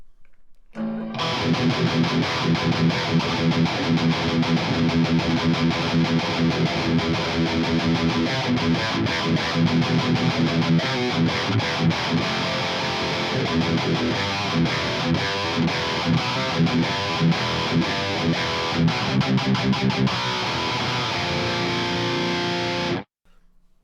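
A distorted electric guitar plays loud, crunchy chords and riffs through an amp for about twenty seconds, then cuts off abruptly.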